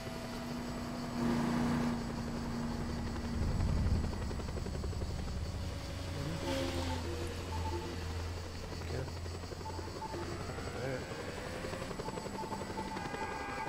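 Helicopter in Just Cause 2 with a steady whirring rotor and engine drone that stays close and loud throughout, with shifting tonal hums and brief mechanical swells.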